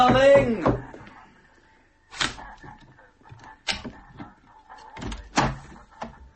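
A shop door being unlocked and opened for early customers, with a few sharp clunks and rattles spaced a second or two apart between stretches of talk.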